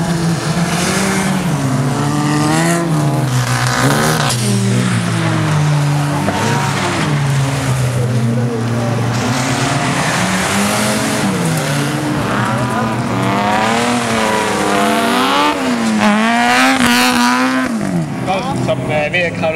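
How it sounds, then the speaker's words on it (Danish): A four-wheel-drive VW Golf races in a rallycross heat, its engine droning and rising and falling through gear changes alongside other cars, loud and continuous, with a commentator talking over it. "golfen den kører også med firehjulstræk, så den har en klar fordel her i dag"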